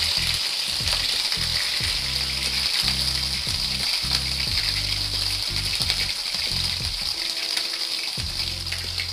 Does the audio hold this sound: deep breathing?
no